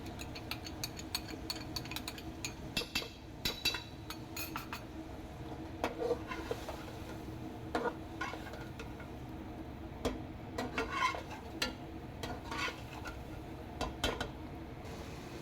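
Eggplant and spices stirred in a cooking pot for baingan masala, with quiet, scattered metallic clinks and taps of a spoon against the pot over a low kitchen hum.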